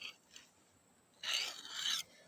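A hunting knife blade is drawn across a sharpener in two faint rasping strokes, then two louder, longer scraping passes close by, with no voices.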